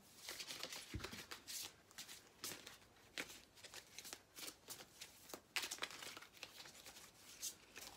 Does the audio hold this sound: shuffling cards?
yes